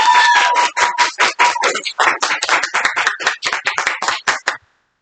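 An audience claps for a woman receiving her certificate at a gathering, loud rapid applause with dense overlapping claps running for several seconds before stopping abruptly.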